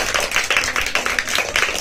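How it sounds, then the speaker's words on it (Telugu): Children clapping hands together in a classroom-style gathering for a children's parliament meeting at a tuition center, a quick uneven patter of many small claps, close and sustained, with faint voices mixed in. "ఒకసారి చప్పట్లు కొట్టండి"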